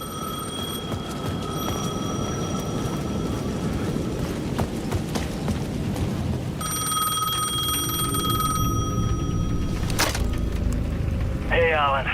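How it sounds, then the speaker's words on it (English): A payphone rings in repeated electronic trills in Alan Wake 2, pausing and returning, over a dense bed of ambient crowd and street noise at the edge of a plaza. "The payphone at the edge of the plaza was ringing again."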